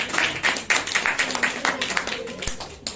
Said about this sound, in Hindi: आप सभी का स्वागत है, एक जोरदार परमेश्वर के साथ ताली बजाइए।